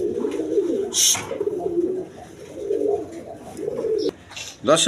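A grizzle-coloured German Beauty pigeon coos in several low, rolling phrases separated by short pauses, close and clear, with a few sharp bursts of noise breaking in between calls.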